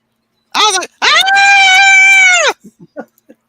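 A person imitates a scream, one short cry followed by a long sustained high-pitched yell, then a few faint short sounds; loud and close, no other talk.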